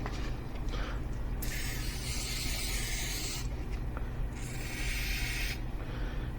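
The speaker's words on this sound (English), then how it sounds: "So I'm going to spray them, work it into them, and just put them in a plastic cup" Spray lubricant hissing onto teak boat cockpit locker lid hinges, two long bright bursts of aerosol spray separated by quieter rubbing and handling noises, close up.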